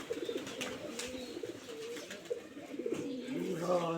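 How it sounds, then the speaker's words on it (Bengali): Flocks of pigeons coo nearby while being fed grain in a village yard, overlapping soft rolling coos with faint background noise and no talk. "আপনারা দেখুন, ঝাঁকে ঝাঁকে কবুতর নিচে নেমে আসছে খাবারের জন্য।"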